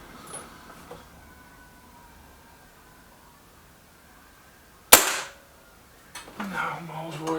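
A Beeman 1357 air rifle fires a single sharp shot about midway, heard fairly close and loud, standing alone against a quiet outdoor background, with faint rustling and movement afterward.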